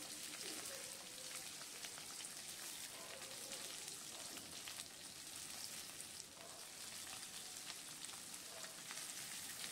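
Chopped onions dropped into hot oil and frying, a dense, even crackling sizzle that continues without pause and fairly quietly throughout.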